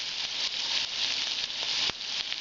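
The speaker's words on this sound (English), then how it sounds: "Just fry a little bit." Small, tiny pieces of potato frying in a pan, a steady close bright sizzle and crackle throughout with occasional stirring bumps.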